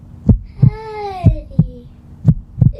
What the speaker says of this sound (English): Harry, it's your own heartbeat.